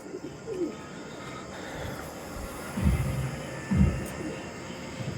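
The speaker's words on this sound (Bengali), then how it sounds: "খুব সুন্দর কোয়ালিটির পায়রা দেখুন" Pigeons of Andhra, Arshad and Chennai breeds kept for sale cooing nearby, several low throaty coos rising over a quiet background with faint chirps.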